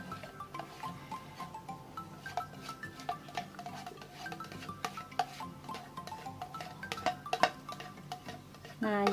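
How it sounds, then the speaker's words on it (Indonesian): Banana cake batter being stirred in a bowl, a steady run of light scraping and clinking taps of utensil against the bowl, close and fairly quiet, ending with a brief louder rustle. "Kita aduk sebentar"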